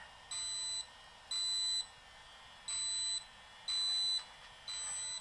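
Five evenly spaced electronic beeps pulse from a small at-home laser skin device, each held for about half a second, fairly faint against a quiet room.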